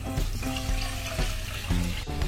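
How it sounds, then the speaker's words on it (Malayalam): Milk streams steadily into a pan, a soft continuous pouring and splashing with no talking. "നമുക്ക് 2 കപ്പ് പാൽ ഒഴിക്കാം."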